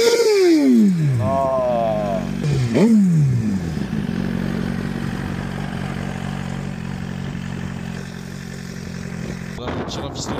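Suzuki GSX-R sport motorcycle in the desert: the starter whines and winds down twice, then the engine catches and settles into a loud, steady idle close by, with a clatter near the end.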